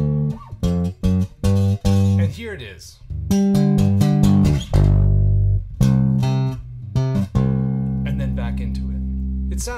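Bass guitar plays a syncopated riff from a song, punchy short notes then longer sustained low tones, loud and close with no voices.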